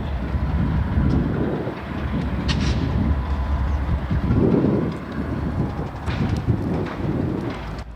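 A pair of GE B40-H locomotives ease onto freight cars with deep rumbling engine throb, low heavy thumps and scattered metallic clanks, all at moderate distance.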